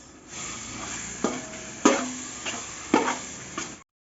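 Tomatoes frying in a pan for home-made biryani, a low steady sizzle broken by several sharp clinks and scrapes of a spoon stirring against the pan, close and alone before the sound cuts off abruptly.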